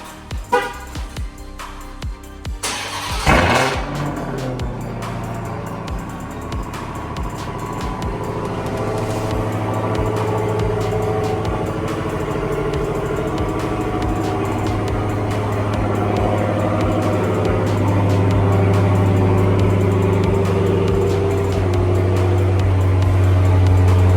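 A Dodge Hellcat V8 cold-starts with a sharp cranking burst, then settles into a loud, steady rumbling idle that swells gradually, heard up close and alone for over twenty seconds.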